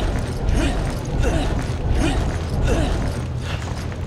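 A heavy crate being pushed in the Resident Evil 5 video game, with rhythmic grinding creaks repeating about every 0.7 seconds over a steady low rumble, loud and close, no voices.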